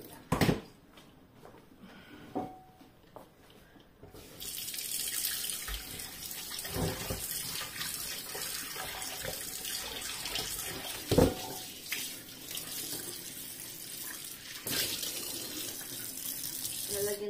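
Water from a tap starts after a few seconds of quiet handling noises and then runs steadily into a sink with a broad hiss, close by, with occasional clunks and no talking.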